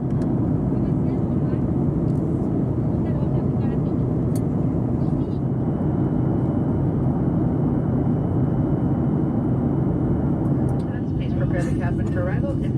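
Inside a United Airlines airliner cabin on approach to Chicago O'Hare, a loud, steady engine and air roar fills the space, with a person talking over it.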